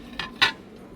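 Ceramic dishes and pans clink twice in quick succession, close and fairly light, as they are handled in a discount outlet store.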